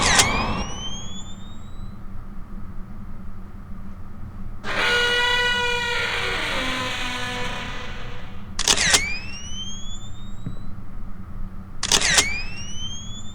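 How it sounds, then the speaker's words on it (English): Camera shutter clicks in the horror video game Love Sam: three sharp, bright chirping snaps that rise in pitch, with a longer whirring, buzzing tone between the first and second, over a steady low background. "Push the shutter."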